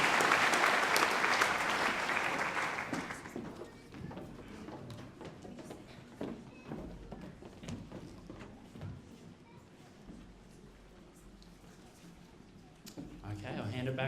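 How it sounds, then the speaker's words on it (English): Audience applause at a Year 12 high school graduation ceremony, loud at first and then thinning to scattered clapping over several seconds before swelling again near the end. "Can we have a round of applause for these award recipients?"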